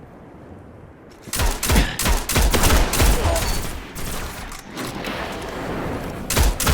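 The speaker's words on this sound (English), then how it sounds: "It sounds like almost a crossbow, kind of like suppressed." Rapid bursts of muffled, suppressed gunfire from the MIDA Multi-Tool scout rifle in Destiny, several shots in quick succession with short pauses, over a low ambient background.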